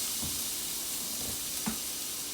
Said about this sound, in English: It's a nice sear